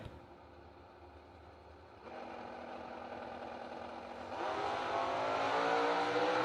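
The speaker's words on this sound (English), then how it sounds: "That was a big old wheel stand by Minton in the right lane" Bracket drag racing car, including a Cutlass, revving and launching at the Bowling Green track, a distant engine roar that steps up in two stages and grows louder and harsher.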